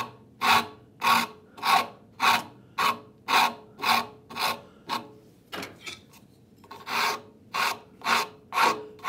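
A wood rasp shapes a wooden saw handle in steady rhythmic strokes, about fifteen close scraping passes with a brief pause midway, no talking.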